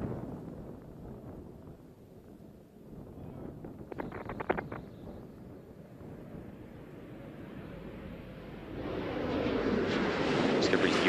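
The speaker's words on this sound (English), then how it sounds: "Space Shuttle Discovery now on final approach to the Kennedy Space Center." Space Shuttle Discovery on its final approach to Kennedy Space Center for the STS-133 landing: a distant, low rumbling rush that swells steadily louder toward the end.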